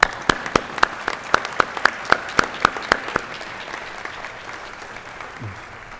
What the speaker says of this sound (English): Let's give these members another round of applause.